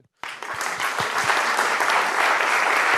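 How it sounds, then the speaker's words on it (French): Dense audience applause at a French public-policy conference, starting abruptly after a brief pause and holding steady and loud, with many hands clapping close by. "On peut les applaudir."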